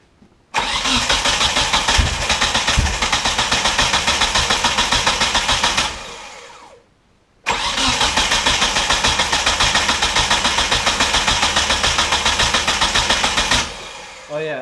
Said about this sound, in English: But yeah, let me fire it up.